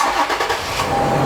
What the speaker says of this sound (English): if you cut the car off and start it up again, watch this.